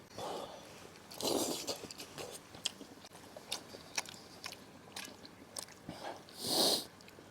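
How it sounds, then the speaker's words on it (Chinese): Loud, close chewing while eating Sichuan hot pot with lamb: wet, irregular bites and smacks, plus a brief snort-like breath near the end and no talk. "吃饭的时候不要那么多的声音好吗？"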